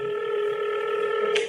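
Telephone call tone, a steady electronic ring held at an even level over its full length, ending in a brief click, clear and close with no speech.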